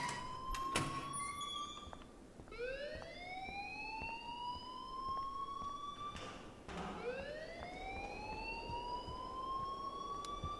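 Wailing electronic alarm in the video game Life Is Strange, looping in rising sweeps that repeat every few seconds, loud and steady over a low background hum with no talk.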